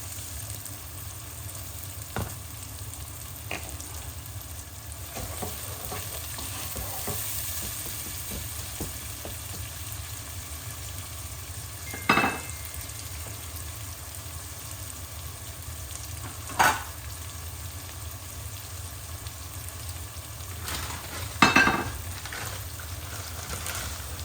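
Onion fries in a pan with a constant, even sizzle, and a few sharp scrapes of a spoon stirring against the pan break through at intervals.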